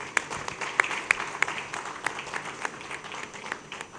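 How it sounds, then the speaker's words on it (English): Scattered clapping from a small crowd at a conference, a patchy ripple of claps with a few louder smacks standing out, fairly faint and fading. "Round of applause for him."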